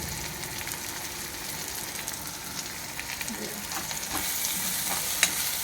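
Brinjal curry being stirred and sautéed in a pan, with a steady close sizzle and frequent scraping, clattering stirs that grow busier toward the end.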